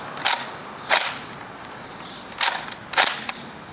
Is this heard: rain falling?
no